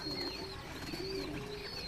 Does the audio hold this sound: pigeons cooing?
yes